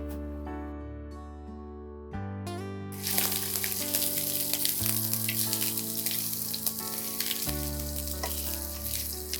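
Ginger frying in a pan for a bottle gourd and yogurt dish: a steady, fairly loud sizzle swells in around three seconds and holds to the end, with sustained musical tones running underneath.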